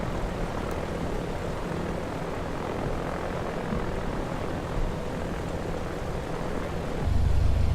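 A simulated aircraft engine drones steadily while taxiing at Kiruna airport in the Prepar3D flight simulator, a constant loud hum that swells louder near the end, with no voices.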